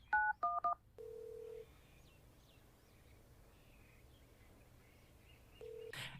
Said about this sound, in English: You take the headset off and hang it around your neck as you dial 911.